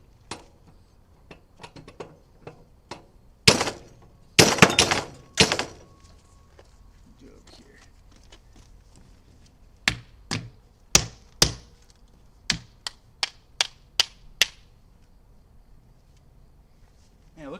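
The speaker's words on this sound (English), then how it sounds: "I'm going to hammer this and see if it comes out here." A motor armature is hammered in a workshop with a series of sharp, close metallic blows, some in quick clusters and others spaced apart, separated by quiet gaps.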